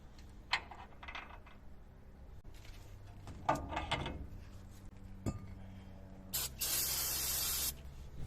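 A long hissing blast of spray cleaner clears old grease, grime and dirt from a brake mounting surface, preceded by scattered small clinks and taps of parts and tools nearby.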